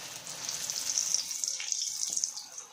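Marinated chana with garlic fries in hot oil, making a soft, continuous high sizzle that crackles gently and stays fairly quiet and steady.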